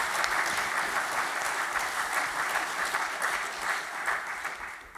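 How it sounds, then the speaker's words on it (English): Sustained applause from a political party conference audience at a UKIP gathering in 2019, dense and steady throughout, fading slightly near the end. "I'm so pleased to hear you applaud that"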